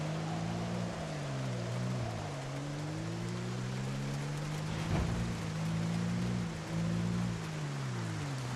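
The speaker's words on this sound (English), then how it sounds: "It's also raining again, if you couldn't tell." Steady rain in a video game, a continuous hiss of falling drops under a low droning hum, with a brief louder crackle partway through.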